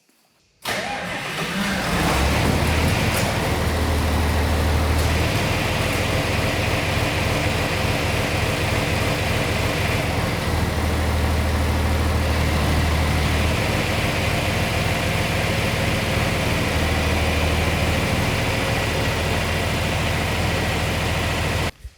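A skid steer engine turns over and starts, then runs at a steady, loud, rough idle with low throbbing and a few surges in revs, continuous throughout.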